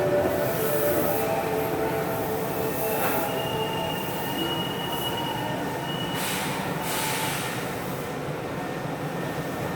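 Osaka Metro 66 series refurbished subway train with Toshiba IGBT traction equipment, running between Nagahoribashi and Ebisucho: a steady underground rumble carries a sustained motor whine, with wheel squeal rising on curves. No voices are heard.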